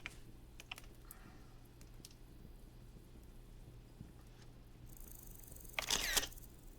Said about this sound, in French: Et là-dessus, on va se prendre une petite photo.